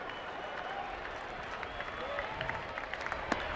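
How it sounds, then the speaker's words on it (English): A baseball stadium crowd at a Texas Rangers vs San Francisco Giants game applauds and cheers after a strikeout, a distant, steady wash of clapping with scattered sharper claps. "And listen to this crowd."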